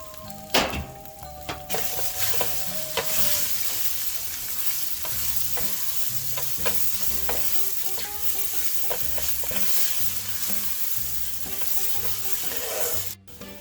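Chicken tomato sauce with ground fennel is stirred in a pan, giving a steady close sizzle with rhythmic scraping strokes and an occasional light clink, no talking.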